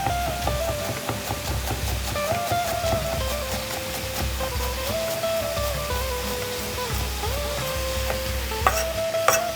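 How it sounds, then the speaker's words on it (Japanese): Food is stir-fried in a frying pan with garlic for Mexican tacos, giving a steady close sizzle with scraping and stirring throughout, alone with no talk. "フライパンに移し炒めていくと、そこにニンニクだ。"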